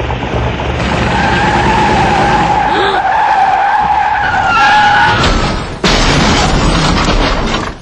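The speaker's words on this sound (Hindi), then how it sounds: "इतनी तेजी से गाड़ी को हाईवे पर लाने के बाद क्या इस एक्सीडेंट को रोका जा सकता था?" A car skids hard across a highway with a long, loud tire squeal and engine roar, then crashes in a sharp impact near the end, all staged as a television advertisement.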